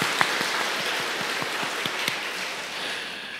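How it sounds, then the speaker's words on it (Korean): A church congregation claps to welcome a newcomer during a Sunday worship service, moderately quiet applause with a few distinct sharper claps standing out, tapering off over a few seconds. "여러분 큰 박수로 환영해 주시길 바랍니다"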